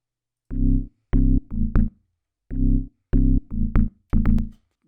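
Synth bass line programmed in Ableton Live playing alone without the kick, a repeating two-bar pattern of short, clipped low notes with gaps, clean and upfront.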